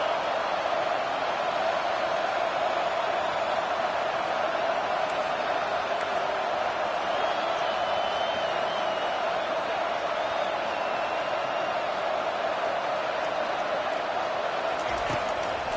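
A football stadium crowd roars at a big third-down play, a dense and steady wall of cheering that holds for the whole stretch. It stays loud throughout and rises a little near the end.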